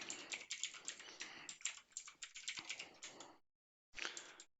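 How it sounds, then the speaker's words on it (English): Quick, steady keystrokes on a computer keyboard as text is entered, heard up close in a quiet room, with a brief silent pause near the end before a final short burst of typing. "type that in."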